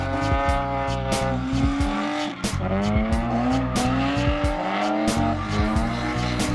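A drift car slides around an oval track at Evergreen, its tires squealing in long repeated bursts over a loud, revving engine that rises and falls as it swings through the turns.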